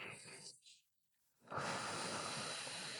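Slow breathing during morning exercises: a long audible breath, a quiet pause of about a second, then a steady hissing breath close to the microphone.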